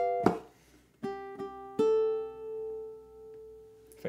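Ukulele plays the fourth bar of a song, a handful of soft plucked and strummed notes with a light tap, quiet and close, ringing briefly and alone.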